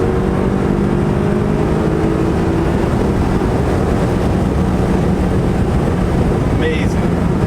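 A BMW 428i M Sport with its muffler deleted and an 8-speed automatic accelerates hard, its exhaust a loud, constant roar buffeted by wind noise, with rising engine tones between quick gear shifts.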